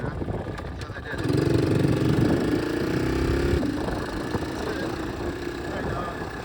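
A small Honda CT70 motorcycle engine idles after a cold start at 25°F, a steady close putter that rises in pitch briefly then settles, with a voice talking over it.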